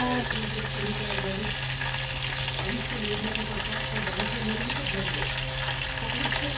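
Curry leaves frying in hot oil in a home kitchen, giving a steady, continuous sizzle with faint stirring, heard close with some background noise and a voice now and then.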